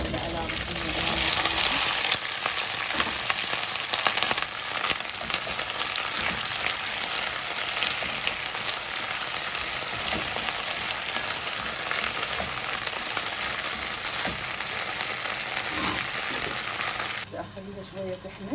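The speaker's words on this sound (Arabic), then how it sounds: "اخليها شويه تحمس" Okra that has been soaked in water, salt and lemon fries in a pot for a meatless dish, giving off a steady, close, dense sizzle that continues almost unbroken before easing off near the end.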